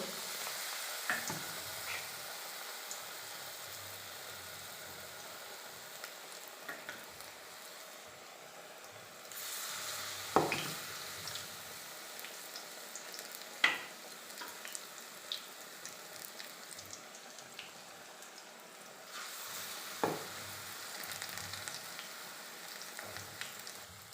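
Hinche greens dipped in gram flour batter sizzle steadily in hot oil, a continuous close frying hiss with occasional pops and utensil stirring clicks.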